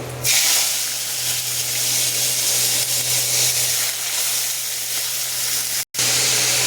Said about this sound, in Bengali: কড়াইতে তেল গরম হয়ে গেছে। কালো জিরা আর শুকনো লঙ্কা দিয়ে দিলাম। এবার আমি আস্তে আস্তে কোয়াশগুলোকে ছেড়ে দেবো।